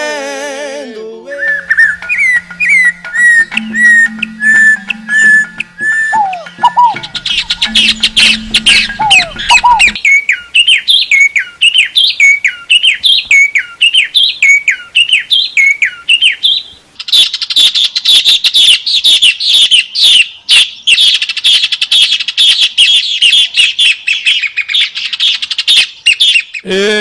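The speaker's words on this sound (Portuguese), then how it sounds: "Ê, passarinhada velha danada, né, compadre, velho?" Many birds chirp and whistle at close range, a dense, loud stream of tweets and whistled calls that continues throughout, with rapid repeated chirps building into a busy chorus.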